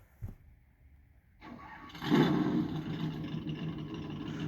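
A phone app plays an engine start and rev effect through a Bluetooth speaker mounted on a 1:10 RC Jeep Wrangler crawler: a faint click, then the motor catches and revs up into a steady, buzzy idle.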